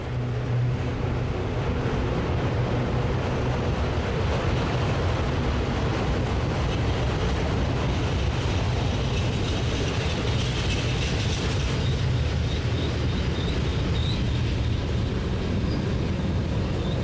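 Union Pacific and BNSF freight trains roll through Cajon Pass, a loud, steady rumble and grinding of wagons with rail clatter filling the whole stretch without pause. A faint high squeal rises near the end.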